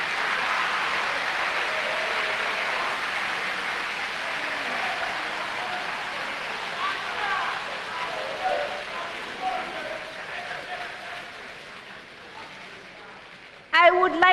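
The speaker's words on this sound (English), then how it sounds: "Let's clap for all schools who participated." Audience applause at a national school quiz finale in Ghana, a steady wash of many hands clapping that gradually thins and fades, ending with a few louder close knocks.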